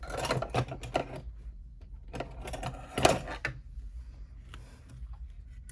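A Janome embroidery machine stitches in short bursts of rapid mechanical clatter, stopping and starting across a few seconds, close and fairly loud, with no talking.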